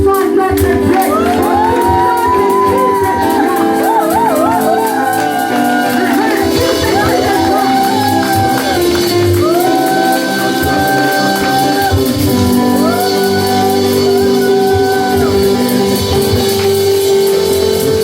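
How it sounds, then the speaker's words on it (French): A church congregation cheers loudly for God, a sustained wall of crowd shouts, whoops and sung cries over steady music, continuous and full throughout. "J'aimerais que nous puissions acclamer très fort notre Dieu."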